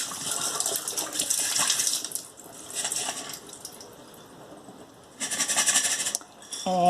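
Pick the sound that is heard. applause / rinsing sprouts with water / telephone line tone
rinsing sprouts with water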